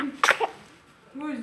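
A newborn baby in a maternity ward gives one sharp, close sneeze, with a small cry-like voice before and after it.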